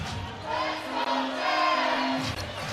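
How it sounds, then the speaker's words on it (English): A crowd cheers at a PSAL girls' 3A city championship basketball game, a sustained roar of shouting and whooping from many voices, loud and continuous. "Lady Jets crowd getting behind them."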